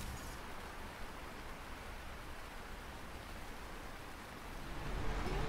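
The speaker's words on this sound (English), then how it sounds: "still raining" Steady rain pours down in the farming game Lightyear Frontier, a continuous broadband hiss that stays even throughout and swells slightly louder near the end, with no talking.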